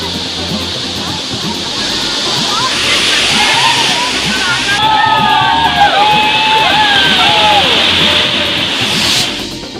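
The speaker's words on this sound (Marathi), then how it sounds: "राजापुरातील सवतकडा धबधबा फेसाळला" The foaming Savatkada waterfall in Rajapur, crowded with tourists, gives a constant loud rush of falling water, with distant shouts and a talking voice over the roar.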